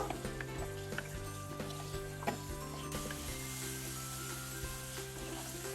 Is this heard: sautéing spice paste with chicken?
yes